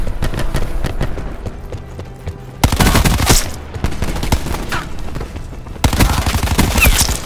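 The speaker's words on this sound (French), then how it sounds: "Je balance une grenade flash." Rapid automatic gunfire and sharp explosive bursts from the video game Black Ops 4 multiplayer as a flash grenade is thrown, dense and loud with two abrupt louder onsets, no talk heard.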